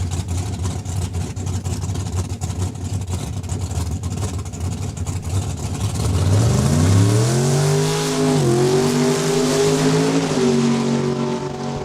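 A drag race car runs at full throttle down a raceway strip, its engine roaring loud and steady and rising in pitch through the gears before settling into a sustained high whine, with no talk.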